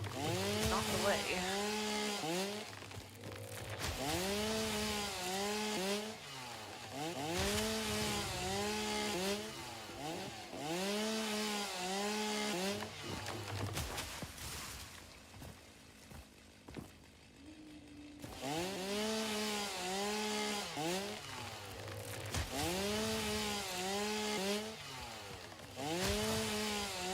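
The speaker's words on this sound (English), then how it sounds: "Chainsaw's so loud." A chainsaw cuts wood in the video game Satisfactory, its motor loud and close and revving in long sustained bursts that rise and fall in pitch, broken by a brief quieter gap partway through before the sawing resumes.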